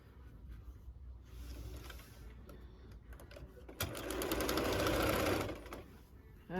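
A sewing machine stitches fabric for a quick St Patrick's Day project in a short, fairly loud close-up burst that follows quieter mechanical handling, with no talk.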